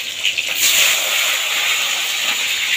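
A tomato dropped into hot oil in a pan with black cumin and slit green chilli, giving a bright, steady sizzling hiss with a few crackly bursts near the start, close and alone.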